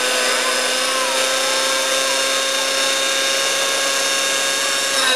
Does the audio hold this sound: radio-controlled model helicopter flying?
yes